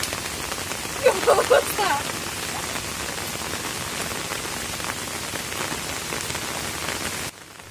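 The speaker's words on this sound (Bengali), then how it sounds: "এতটাই বৃষ্টির আওয়াজ হচ্ছে যে মানে সাধারণ কথা সেরকম শোনা যাচ্ছে না" Heavy rain drums steadily on a village pond and its surroundings during a rainy-day fishing outing in the Sundarbans, a dense continuous hiss throughout, with a brief voice rising over it near the start.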